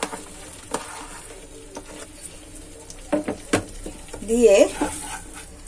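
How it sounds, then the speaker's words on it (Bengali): Chicken and onions, cooked without oil, sizzle quietly in a pan while a utensil scrapes and stirs in short bursts, with someone speaking briefly over the cooking. "ভালো করে পেঁয়াজটার সাথেও মিশিয়ে নিয়ে"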